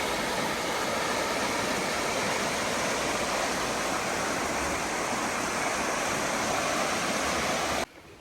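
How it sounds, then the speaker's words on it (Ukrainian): Broad, constant rush of water pouring over a small weir on a river in Leuven, Belgium, loud and unbroken, cutting off abruptly at the end. "Там трошки водичка нехай пошумить."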